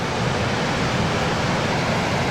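Steady roaring rush of Virginia Falls on the Nahanni River, a broad continuous wash of falling water with no breaks, loud and even throughout.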